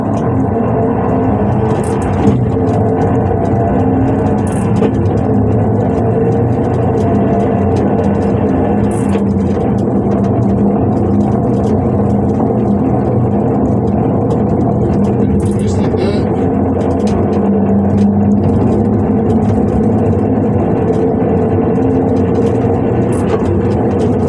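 A Velocar motor-assisted vehicle takes off and rides along, its engine holding a loud, steady drone throughout with a few faint clicks and knocks on top.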